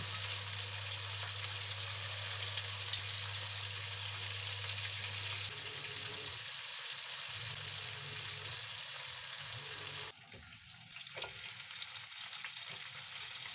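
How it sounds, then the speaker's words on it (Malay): Chicken frying in hot oil for a Malaysian sambal chicken dish, a steady close sizzle and crackle that runs throughout, with brief clatters of stirring or handling near the end. "Goreng sampai habis yang lain."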